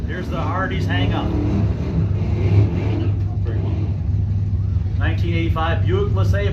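A 1985 Buick LeSabre drag race car accelerates down the strip, its engine roar running continuously under a track announcer's loud commentary.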